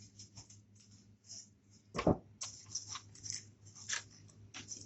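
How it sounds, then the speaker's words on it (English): Scissors snip a single petal from a flower, with a sharp close cut near the middle among soft rustling and small clicks, no voices. "we're going to take our first flower, and we're only going to cut off 1 petal"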